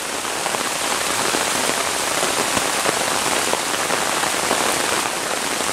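Steady, dense rainfall hisses on a surface, constant and unbroken, with scattered louder drops.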